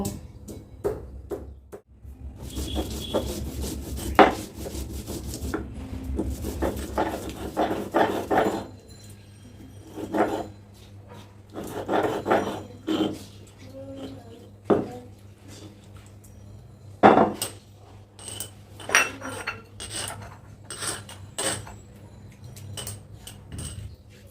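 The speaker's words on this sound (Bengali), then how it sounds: "আমি এখানে আদা নিয়েছি, কাঁচামরিচ আর রসুন নিয়েছি, এগুলোকে বেটে নিব।" Ginger, green chilli and garlic are ground into paste in a kitchen, with irregular scraping, knocking and clattering strokes that come in uneven bursts with short pauses between them.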